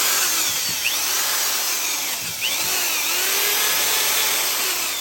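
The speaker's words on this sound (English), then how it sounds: "What I got is a wide wheel brush on a drill." A drill spins a wire brush against metal, giving a steady whirring, scraping buzz with slight pitch dips as pressure shifts. No talking.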